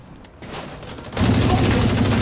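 Dense gunfire in the shooter game The Division 2 starts as a lighter rattle, then swells into a loud, continuous volley of overlapping shots.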